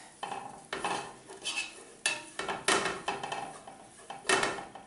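Flour and butter being stirred together into a roux for a ham, pea and corn cheese sauce, a spoon scraping a pan in repeated uneven strokes with light clinks, close and alone.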